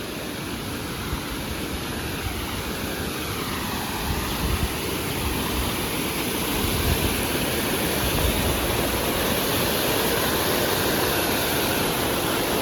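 Waterfall at Thekke Malambuzha in Palakkad, Kerala, heard from the top of the falls: a close, loud, steady roar of rushing water that runs unbroken throughout, with no voices.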